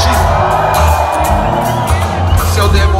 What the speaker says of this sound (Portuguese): E uma vaia pros machistas